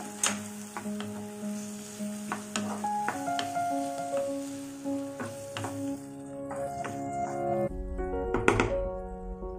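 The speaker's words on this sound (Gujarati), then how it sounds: "પછી જે અડદની અને ચણાની દાળ હતી એને પણ આપણે અંદર એડ કરી દઈશું, બધું હલાવી દઈએ" Urad and chana dal with green chillies stirred into a sizzling tempering for upma, a spoon scraping and knocking against the pan in repeated strokes over a steady fry hiss, with a louder clatter near the end.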